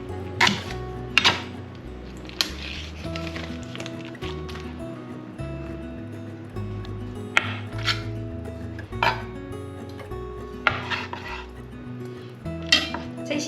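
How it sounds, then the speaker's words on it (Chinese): A kitchen knife chops enoki mushrooms on a board in a run of sharp, irregular taps over steady background music. "把金针菇切碎"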